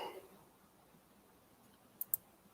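Two quick, faint computer mouse clicks land close together near the end, over a quiet background hum.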